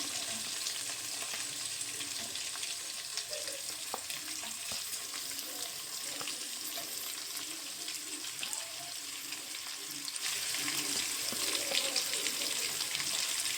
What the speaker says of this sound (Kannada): ನೆಕ್ಸ್ಟು ಈರುಳ್ಳಿ ಹಾಕ್ಕೊತಾ ಇದ್ದೀನಿ